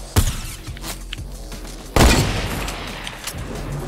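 Two sharp, loud gunshot cracks in Fortnite, one near the start and a heavier one about two seconds later, each trailing off over background game noise.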